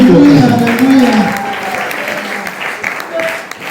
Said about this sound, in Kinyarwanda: Niyo mpamera amashyi.